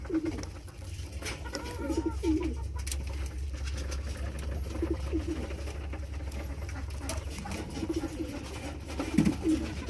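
Pigeons coo softly in repeated low, throaty phrases close by, with faint rustling and shuffling in the background.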